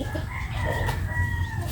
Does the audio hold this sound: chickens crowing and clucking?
yes